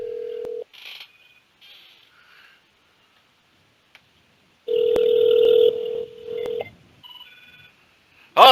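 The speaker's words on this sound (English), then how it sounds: "Oh, somebody's calling in the middle of the show." A telephone rings during a home-recorded comic show, with electronic ring tones and beeps in separate bursts over roughly eight seconds, loud and close, with quiet gaps between and no talking.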